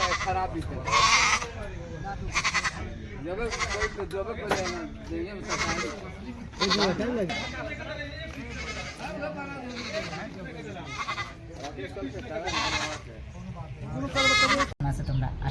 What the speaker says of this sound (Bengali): আর কয়েকটা ছাগলের যেটা মানে ডাকছে